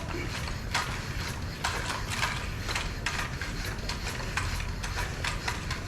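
A hand pump inflates a Pirelli P Zero Race TLR tubeless road bicycle tyre, with steady, repeated strokes of air hissing and the pump mechanism clacking close by for several seconds.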